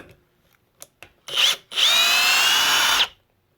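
A Ridgid brushless 18V drill/driver spins up in two bursts, a short whir followed by a longer, steady, smooth run of about a second and a half, close and fairly quiet, with light handling clicks before it.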